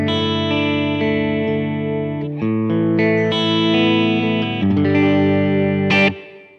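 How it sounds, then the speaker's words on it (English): Clean electric guitar played through a Boss Pocket GT with a modulated reverb, sustained chords ringing with a lush, shimmering wash that changes a few times before cutting off near the end. "It's quite a nice modulated reverb, sort of like a lexicon sort of sound"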